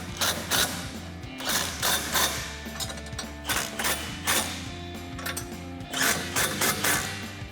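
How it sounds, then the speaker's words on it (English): An 18mm socket on a ratchet wrench tightens bolts under a Jeep Wrangler JK while a spare tire carrier is installed, giving close, rhythmic clicking strokes in quick repeated bursts with short pauses between them. "now I'm going to take an 18mm socket and wrench and tighten these down"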